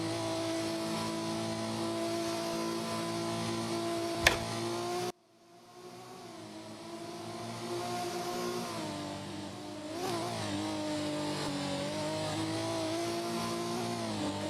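Race cars roar past in a racing video game during an endurance event, sustained engine drone with revving and gear changes, a sharp click, then a brief drop before engines swell back to a steady loud whine.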